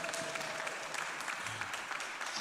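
An audience in a church sanctuary claps steadily through a Christian concert welcome, producing a dense, even wash of applause with no pauses.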